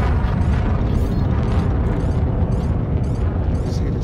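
A spaceship explodes after crash landing too fast in a space video game, giving a loud, sustained rumbling blast with crackling bursts that fills the whole stretch.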